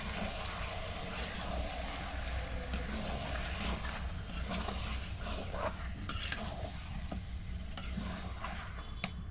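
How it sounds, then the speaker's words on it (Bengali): Chicken pieces frying in a pan in a home-style Bengali curry, a dense continuous sizzle with a low rumble beneath and occasional faint ticks of stirring, steady and close without speech. "মাংসটা দিয়ে সুন্দরভাবে নাড়াচাড়া করব"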